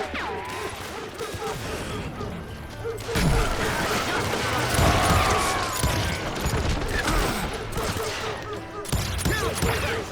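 Dense, chaotic gunfire and clattering mechanical noise from the Call of Juarez video game, with overlapping shots and crashes running continuously and loudly throughout.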